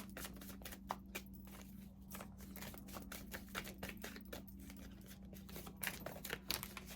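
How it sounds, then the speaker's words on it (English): Tarot cards being shuffled during a pick-a-pile reading, a steady run of soft crisp riffling and card flicks at close range over a low constant hum. "Oh, I've seen that shuffling."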